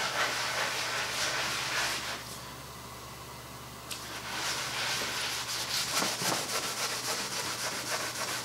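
Water rinses oxalic acid off a Depression-era wooden table, a steady close hiss of spray and running water that dips quieter midway, then surges back with splashing.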